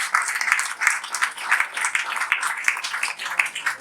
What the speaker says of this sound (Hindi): एक बार जोरदार तालियां बजाना